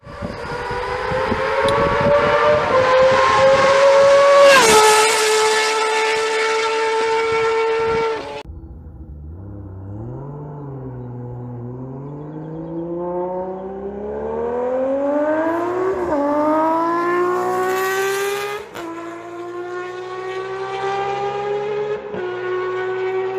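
A 1978 Honda six-cylinder motorcycle engine revs hard, its smooth, high-pitched, siren-like wail climbing, dropping back and then rising again through several long sweeps, loud and close.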